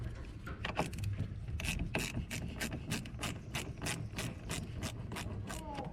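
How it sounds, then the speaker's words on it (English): A wrench works loose the terminal nut on a Mitsubishi Outlander car battery, making a steady run of quick, close ratcheting clicks that repeat evenly for several seconds, with no voice over them. "I'm loosening this nut right here."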